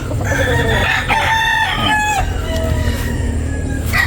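Chickens cluck and call nearby, loud and close, with a rooster-like crow rising over a dense rumbling background.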